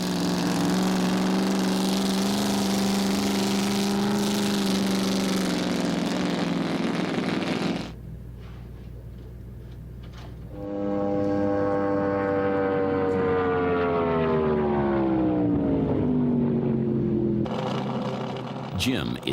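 Land speed record cars pulling away at the start of their runs, engines rising and falling through gears in long whining sweeps, with a brief lull between two drives.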